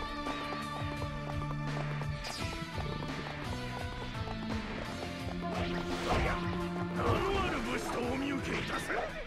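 Horse galloping in the video game Samurai Warriors 2, rapid hoofbeats mixed with battle clashes and game music, steady and fairly loud throughout, with someone talking over parts of it.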